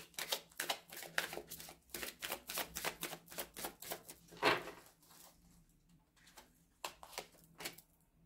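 Tarot cards are drawn and laid down on a table, a series of sharp, close clicks, flicks and soft slaps in irregular bursts, with a brief rustling swipe in the middle and quieter gaps between.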